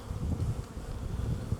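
Honey bees at a hive entrance at night, a low continuous buzzing hum heard close and soft for a moment, with faint wind noise.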